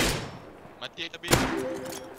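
Gunfire in the video game Rust: a few quick, sharp shots, loud at first and then trailing off, mixed with game noise and a brief bit of voice.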